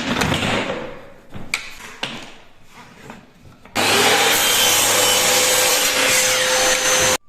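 A miter saw cuts pre-painted MDF baseboard in a loud, steady whine lasting several seconds, following quieter handling and rubbing sounds, with no talk over it.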